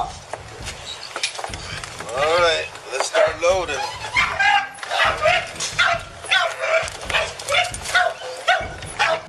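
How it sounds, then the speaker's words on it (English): Several dogs bark and yip loudly and close by in a backyard during a police drug raid, where twelve caged dogs were kept for dog fighting; the bursts repeat in an uneven rhythm with whimpering and some talk mixed in. "they could hear the sounds of barking dogs"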